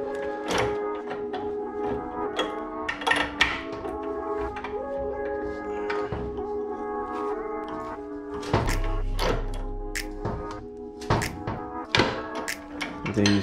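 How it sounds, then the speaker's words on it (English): Rubber subframe bushings on a Nissan 350Z cracking and popping as a Z1 Motorsport press tool forces them out, sharp irregular snaps and knocks over a low grinding creak, close and with no talking. "And then you start hearing the rubber cracking."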